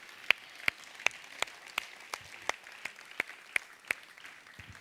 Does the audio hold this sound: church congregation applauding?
yes